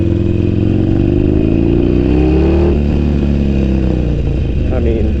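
Motorcycle engine idling and running smoothly after its throttle position sensor was replaced, a loud, close, steady rumble with a slight rise and fall in revs partway through.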